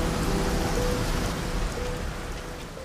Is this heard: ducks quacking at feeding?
no